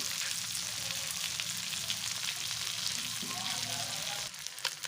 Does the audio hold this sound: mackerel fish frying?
yes